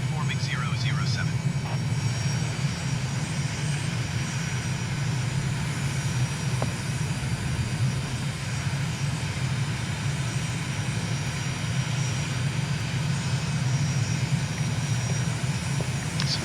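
A steady, loud aircraft engine drones continuously as a plane in Microsoft Flight Simulator flies upwind over Lake Lucerne, Switzerland, a constant cockpit hum throughout.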